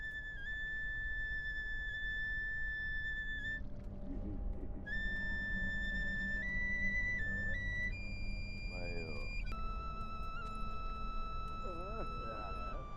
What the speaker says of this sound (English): I found myself hearing an enticing whistling noise, directing me to the upstairs of a nearby house